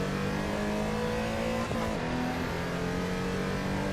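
A Porsche race car engine in the racing game Assetto Corsa EVO drones at steady high revs, with a brief gear change or lift around the middle, loud and continuous with no talk.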